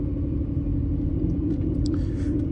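A Vortech supercharged Mustang drives gently through a residential neighborhood, its engine giving a low, even, continuous rumble with no revving, heard up close from inside or beside the car.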